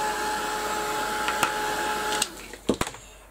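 A heat gun blows a steady, close whirring stream of air over a mixed media craft piece, then stops, followed by a few handling knocks and clicks.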